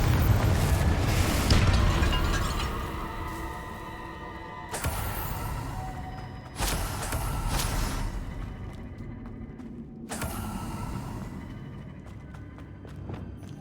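Confringo blasting spell explosions in Hogwarts Legacy, a series of heavy booms spaced a few seconds apart, each with a sharp onset and a rumbling tail over continuous game ambience.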